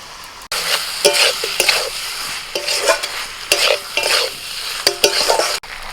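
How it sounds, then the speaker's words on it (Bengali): Fried potatoes and onion stalks being stirred into a cooked-down spice paste for a rohu fish dish, with loud, repeated scraping and stirring bursts over a steady sizzle, close by and with no voices. "এবার মশলার মধ্যে ভাজা আলু আর পেঁয়াজ কলিটা দিয়ে দিচ্ছি"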